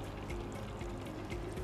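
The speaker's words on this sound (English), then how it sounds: "I'm just going to open up a little bit of water coming out." Water runs through a Kinetico water softener as a tap is opened slightly, giving a soft, continuous pour and trickle at low volume, close by and without talk.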